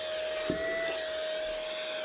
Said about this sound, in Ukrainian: Я підняв коврик цим пилососом. Тяне добре.